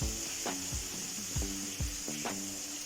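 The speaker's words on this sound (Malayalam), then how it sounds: "ഇവിടെ ഉള്ളി ഇതാ ചെറുതായിട്ട് ഫ്രൈ ആയിക്കൊണ്ടിരിക്കുന്നുണ്ട്" Onions frying in oil and ghee for chicken biryani, with a constant high sizzle broken by about six rhythmic stirring scrapes, close and even, with no speech.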